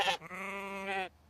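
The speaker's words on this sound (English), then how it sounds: "joined by these beautiful sheep that give out the world famous wool" A single sheep bleats close and loud on a farm near Wellington, New Zealand, one sustained wavering call of about a second that stops abruptly, with no talk.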